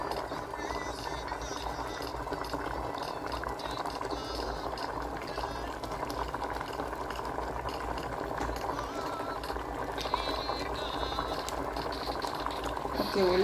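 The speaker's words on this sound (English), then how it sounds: "we'll leave it for 30 minutes here with the boiling water" Water bubbling at a steady boil, a continuous churning hiss with a faint voice speaking underneath.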